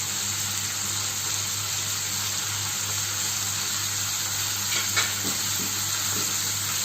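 Gizzards and liver fry in a pan with garlic, vinegar and cumin, giving a loud, constant sizzle with a steady background hum and a few soft stirring scrapes near the end.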